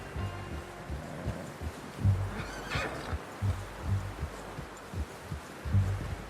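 A horse whinnies in Red Dead Redemption 2, one clear neigh rising above a steady run of soft hoof clip-clops and light ambient rustle.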